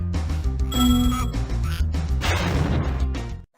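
Sharp metallic ringing of a bell in Spyro 2: Ripto's Rage, cutting through a busy game soundtrack with bright sustained tones and clattering hits, fairly loud and up close.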